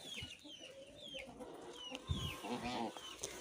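Chickens cluck and call steadily in a farmyard coop, several birds close by with overlapping squawks and murmurs, and a little faint talk in the background.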